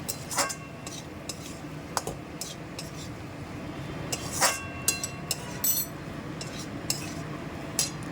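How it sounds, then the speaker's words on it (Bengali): Masala of chilli, cumin and coriander powder is stirred and fried in a pan for banana-flower curry, with a spatula scraping and clinking against the metal in irregular taps over a low, steady sizzle. "দিচ্ছি 1 চামচ জিরে গুঁড়ো, 1 চামচ ধনে গুঁড়ো দিয়ে এবারে আমি মশলাটা খুব ভালো মতনভাবে কষিয়ে নেব।"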